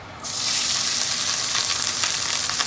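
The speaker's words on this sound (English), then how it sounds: "I'm gonna dump my rice in" Rice hits a hot pan and breaks into a loud, steady sizzle of frying that starts abruptly and holds close and even for a few seconds, with no talk.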